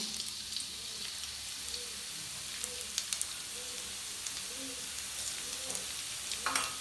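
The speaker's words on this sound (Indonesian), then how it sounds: "Jika minyak sudah panas, masukkan irisan bawang putih dan bawang merah ke dalamnya." Sliced garlic and shallots frying in hot oil in a wok, a continuous hissing sizzle with occasional spatula clinks and stirring scrapes, steady and close.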